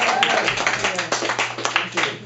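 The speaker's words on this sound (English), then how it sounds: "round of applause for Steve, everybody." Steady crowd applause at a substance users' network meeting, a dense patter of many hands clapping at a fairly even level throughout, with some voices mixed in underneath.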